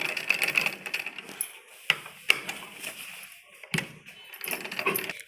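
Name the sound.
sewing machine stitching a men's kurta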